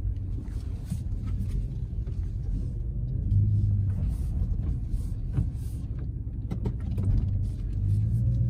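A truck backs into a parking spot, its engine giving a steady low rumble close by that swells slightly as it manoeuvres, with no talk over it.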